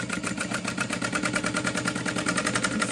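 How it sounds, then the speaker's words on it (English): A sewing machine stitches quilted backpack pieces together, running with a fast, even mechanical whir and rapid rhythmic needle pulses, close and steady. "I'm sewing these together"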